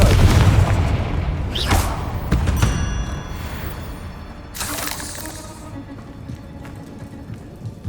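Blasting-spell explosions from the Hogwarts Legacy video game: a loud opening boom with crackling debris, then a second bright burst near the middle, with game effects and a rumbling bed decaying toward the end.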